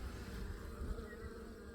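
A wasp buzzes near a beehive in autumn, a continuous droning hum, fairly close and steady, mixed with the softer murmur of bees around the hive.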